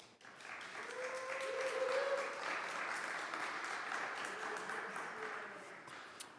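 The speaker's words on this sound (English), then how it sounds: "so please give them a round of applause." Audience applause for volunteers at a SecDSM security meetup, a steady wash of clapping that swells in the first two seconds and then holds, with faint voices and a brief tonal hum underneath.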